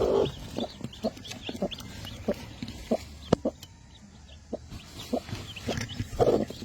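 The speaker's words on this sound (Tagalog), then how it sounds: "Ayan yung mga sisiw niya. Healthy." A hen with her newly hatched chicks gives soft, scattered clucks and short calls at close range over a quiet background, with brief rustling and scratching in between.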